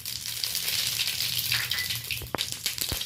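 Dried red chillies and a pinch of radhuni spice sizzle steadily in hot mustard oil, a continuous crackling hiss with a few sharp pops near the end.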